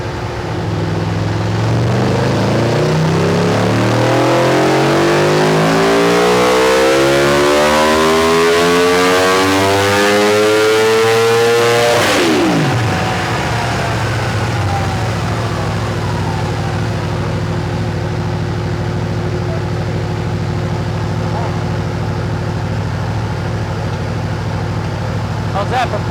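An Aprilia RSV4 1100 Factory motorcycle on a dyno screams up through the gears in a long, loud rising rev for about twelve seconds, then the throttle cuts and the engine falls back to a steady lower drone.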